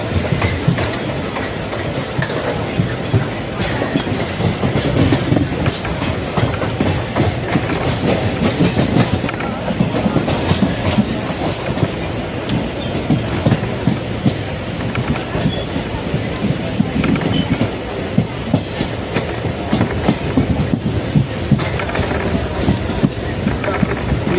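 A passenger train on the main line from Tambaram to Trichy rolls along with a continuous loud rumble, rattling carriages and irregular clicks of wheels over rail joints, mixed with wind buffeting the microphone.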